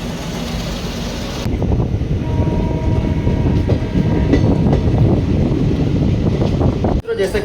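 An Indian Railways train on a Bharat Gaurav tour rolls on after leaving Ambedkar Nagar, heard from inside as a loud, steady rumble with rhythmic wheel clatter and wind noise that continues without a break.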